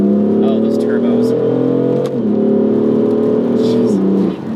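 A turbocharged BMW M4 Convertible accelerating on a rainy backroad, its engine a loud, close, rising drone that climbs through the revs, drops briefly at a gear change and climbs again, with occasional faint interior sounds.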